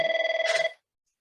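A telephone bell rings in a quick rapid burst lasting under a second, then cuts off to silence; loud and close with no other sound.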